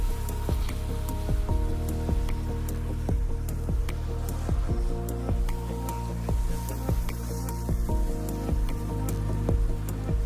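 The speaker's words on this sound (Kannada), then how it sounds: "ರೈಲುಗಳು ಬರುತ್ತಿರುವುದು ಸೆನ್ಸರ್ಗಳ ಗಮನಕ್ಕೆ ಬರುತ್ತಿದ್ದಂತೆ ಹಲವು ದಿಕ್ಕುಗಳಿಂದ ಹೆಚ್ಚು ಜೋರಾಗಿ ನೀರು ಸಿಂಪಡಿಸಲಾಗುತ್ತೆ" An automatic train wash sprays water hard from several directions as six or seven large brush sets scrub the carriages, a steady hiss of spray with repeated slapping, dripping knocks; no talk.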